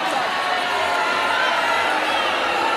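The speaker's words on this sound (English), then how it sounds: "And the crowd don't like it." A basketball crowd at a South Africa vs Australia Fast Five netball game murmurs and roars steadily in a large arena, a continuous broad wash of noise with a commentator talking over it.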